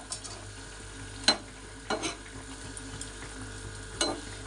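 Rui fish sizzles and fries in a pan, a soft steady hiss broken by a few sharp stirring clinks and pops, close and moderately quiet with no voices.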